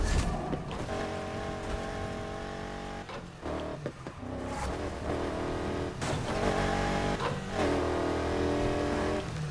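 A car's engine drones steadily in the racing game Need for Speed Heat, with a sustained tonal hum that shifts pitch with speed, several sharp clatters and a brief dip before the engine note rises again.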